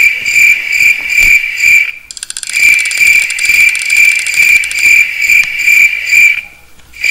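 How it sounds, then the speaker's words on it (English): Crickets in a Roblox forest chirp in a loud, dense, steady trill that dips briefly twice before swelling back, alone without voices. "Jeez, why is cricket so loud?"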